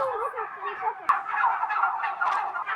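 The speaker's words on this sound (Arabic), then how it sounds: "وهاي مزرعة كاملة مال دواجن، كلها دجاج." A dense flock of poultry on a large farm, chickens calling and clucking together in a continuous overlapping chorus, fairly loud and close with no talk over it.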